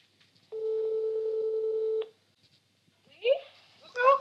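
A phone call to grandma gives one long ringback tone lasting about a second and a half, then silence, before a voice answers and people begin talking.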